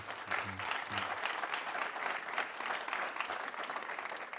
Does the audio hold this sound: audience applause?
yes